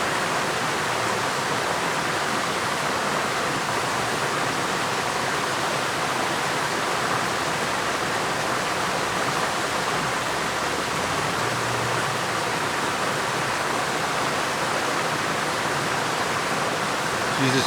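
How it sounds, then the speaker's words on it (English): A river rushes past close by, a dense, loud and unbroken roar of flowing water that holds steady from start to finish. "Crouching by a river."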